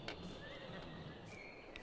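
A horse whinnies faintly in Farming Simulator 22 on a farm map, with soft high calls over a low ambient background.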